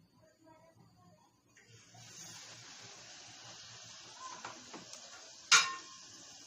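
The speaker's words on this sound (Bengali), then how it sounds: "দেওয়ার আগে আরেকবার ভালোভাবে মিশিয়ে নিব।" A spoon stirs egg pitha batter in a bowl on a kitchen stove, making soft, quiet scraping and light clinks. One sharper clink of spoon against bowl comes near the end.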